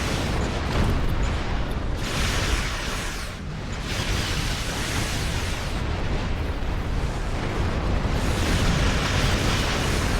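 A heavy torpedo explosion in Star Trek Online, a loud, sustained rumbling blast that roars for several seconds with surging waves of noise.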